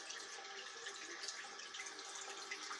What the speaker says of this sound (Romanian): Uitați ce apă neagră la chiuvet.